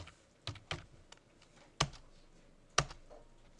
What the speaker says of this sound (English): then you can start typing away